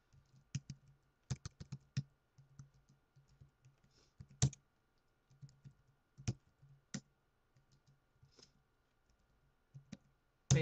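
Typing on a computer keyboard while entering network switch configuration, scattered bursts of sharp key clicks with short pauses between them, close and fairly quiet.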